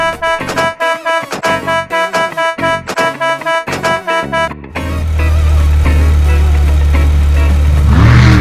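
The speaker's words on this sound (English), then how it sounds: "Blue mixer truck." A cartoon blue mixer truck's engine revs into a loud, sustained low rumble after a stretch of rhythmic, bouncy music.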